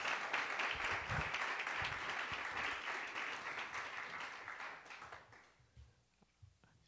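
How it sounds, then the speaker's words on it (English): An audience at an evening lecture series claps for a speaker, a soft wash of applause that holds steady and then fades out near the end. "let's give Ayanna another round of applause."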